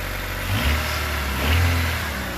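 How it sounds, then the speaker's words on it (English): A 1988 Honda Civic DX runs while warming up, its engine rumbling loud and close with two brief revs rising and falling over a steady low idle. "I was letting the old Honda Civic here, the 88 Civic DX, warm up"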